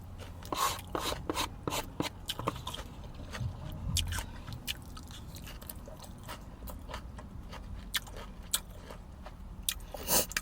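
Close, wet chewing and crunchy bites of a chicken and steak Chipotle burrito bowl, repeated sharp munching clicks over a low background rumble, with no talking.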